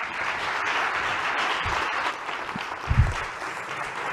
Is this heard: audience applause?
yes